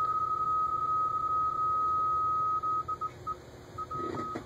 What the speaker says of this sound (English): Let it do the Morse code.